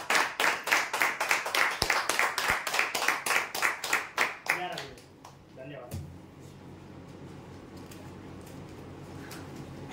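A crowd at a prize draw claps in unison, about twenty sharp, evenly spaced beats for four and a half seconds, then the clapping stops, leaving quiet room noise with faint scattered sounds.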